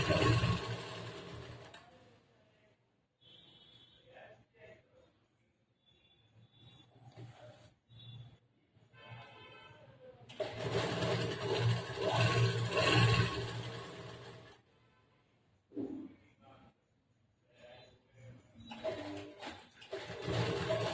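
A sewing machine runs in several bursts of stitching on a churidar top, the fabric folded half an inch and pulled lightly from behind, with pauses of quiet between the runs.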